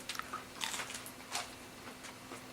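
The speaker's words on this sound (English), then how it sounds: "Taste test of my sandwich." Bites into a grilled chicken and cheese sandwich with red pepper, made in a 3-in-1 sandwich maker, giving a few soft crunchy bites and chewing sounds, close and quiet, with no talk.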